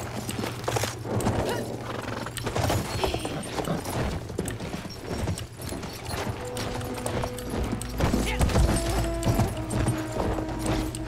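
Horse hooves clip-clop at a gallop in the Battlefield 1 video game, a steady rhythmic pounding up close amid dense battlefield noise, with brief whinnies and tonal game sounds layered in toward the end.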